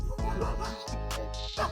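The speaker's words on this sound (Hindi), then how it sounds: "और भाई यहाँ पे कुत्ते भौंक रहे हैं" Dogs barking at night on a roadside in India, a short burst of yips and barks close by, with some whimpering mixed in.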